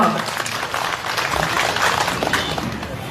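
A crowd at an outdoor political rally claps steadily in a dense, continuous wave of applause for the women, with a voice faintly audible beneath.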